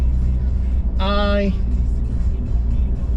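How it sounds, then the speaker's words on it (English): Mud terrain 33-inch tyres on a lifted Ford Ranger WildTrak hum and rumble as a steady low road drone throughout the drive, with a brief voice rising over it. "we've got some mud terrain tyres on as well, 33s. Yeah, which you can hear them."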